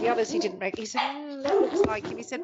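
A dog barks and yips under ongoing conversation, with short sharp yelps breaking through the voices and a brief whine near the middle.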